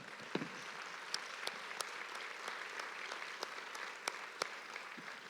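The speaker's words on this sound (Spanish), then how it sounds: "Fuerte ese aplauso." A church congregation claps in a fairly faint, distant-sounding applause that runs throughout, with a few sharper individual claps standing out above the steady patter.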